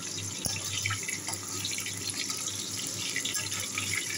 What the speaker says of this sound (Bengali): এখন আমি মাছগুলোকে ভেজে নিচ্ছি।